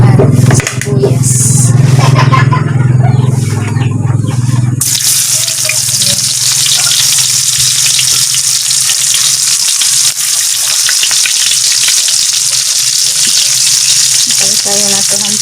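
Sliced onions fry and sizzle in a pan in a countryside Philippine kitchen while making pork adobo, a loud steady hiss with stirring scrapes, after a brief louder burst at the start.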